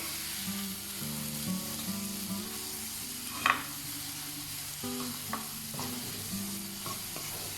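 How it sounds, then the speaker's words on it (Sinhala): Leeks and other vegetables stirred in a pan for a Sri Lankan vegetable pol roti, with a soft steady sizzle and occasional scraping clinks of the utensil against the pan. "මේකත් මේ විදිහට නැවත කලවම් කරලා තත්පර 10ක් විතර තියාගන්නවා"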